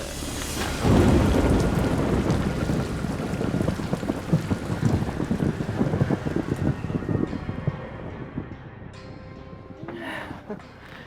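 A heavy thunderstorm drives rain onto a small moored houseboat at sea, with rumbling thunder, steady downpour drumming on the roof and gusting wind, loud and continuous throughout.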